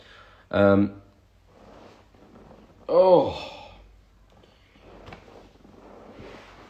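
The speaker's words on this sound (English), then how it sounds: "This is a very squeaky chair." A very squeaky chair gives two loud, sharp creaks a few seconds apart, close to the microphone, with faint low murmuring in between.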